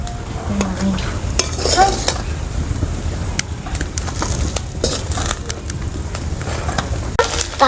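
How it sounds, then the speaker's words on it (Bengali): Jackfruit seed kebabs fry in a pan with a soft continuous sizzle, mixed with scraping, clinking spatula and utensil sounds at close range. "দুই সাইডে হালকাভাবে ভেজে নিয়েছি,"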